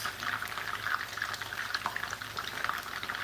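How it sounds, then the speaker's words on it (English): Catfish being sealed in hot palm oil produces a steady close sizzle with crackling pops throughout, no talk over it. "we are not frying, we are just sealing"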